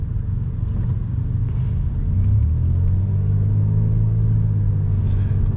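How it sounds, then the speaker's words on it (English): Slow traffic crawling along an expressway, heard as a steady low car rumble with engine drone swelling slightly midway, continuous and fairly close, with no talking. "You can see all the traffic just going to almost a crawl."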